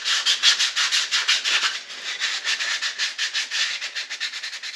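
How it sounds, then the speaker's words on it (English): Sandpaper rubbed by hand along the edges of a wooden key holder charcuterie board, a steady run of quick back-and-forth scratchy strokes, close and fairly loud, with no talk. "I'm just going to take a piece of sandpaper and I'm going to sand all these edges real nice and smooth"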